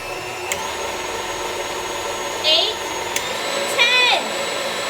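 Electric hand mixer whirring at a high speed setting while beating crepe batter, a steady continuous motor drone close by, with a brief shift in pitch partway through.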